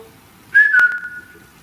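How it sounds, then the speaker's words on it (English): A single short whistle rings out in a theatre during a ghost hunt, a clear steady tone lasting about a second with a sharp click partway through, alone against a quiet room. "It's like a whistling."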